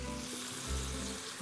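Pasta frying in a pan gives a steady, dense sizzle that runs unbroken and fairly loud from start to end, with no voices over it.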